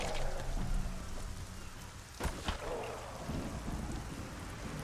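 Rain falling in the video game Arcania Gothic 4, a steady soft patter throughout with a sharp crack of thunder about midway, fairly quiet overall.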